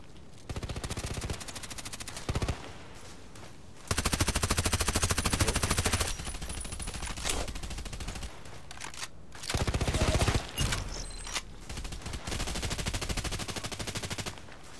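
A player's gun in a shooting video game fires long bursts of rapid automatic shots, loud and close, with brief pauses between volleys.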